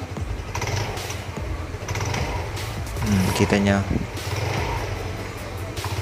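A Yamaha Mio Soul scooter engine is revved on test after new rollers and a V-belt are fitted, a close mechanical drone rising and falling with people talking over it.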